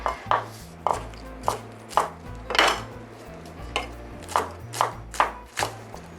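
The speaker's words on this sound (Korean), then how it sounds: "실파를 또 송송 썰어 주도록 하겠습니다." A knife finely slices green onions on a cutting board, giving a crisp, close rhythm of sharp chops at roughly even intervals, with no voices.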